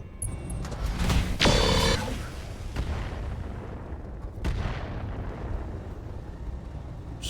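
Bombs exploding in the BattleTech RogueTech mech video game, a couple of heavy booming blasts with rumbling decay, loud and close, followed by lingering low rumble.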